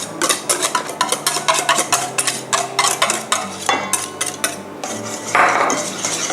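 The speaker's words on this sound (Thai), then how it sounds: "แล้วก็คนให้เข้ากันนะคะอย่าลืมนะคะ" Banana cake batter being stirred in a bowl, with repeated scraping and clinking of a utensil against the bowl in a steady rhythm, close and fairly loud, with no talking.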